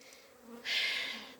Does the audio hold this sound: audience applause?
no